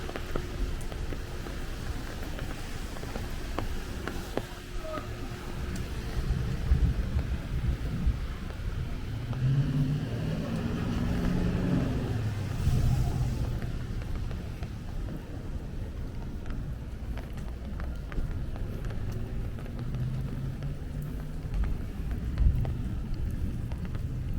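Steady heavy rain hisses across a Bay Ridge, Brooklyn street during a thunderstorm, with a low rumble of thunder rolling through the middle and wind buffeting the microphone throughout.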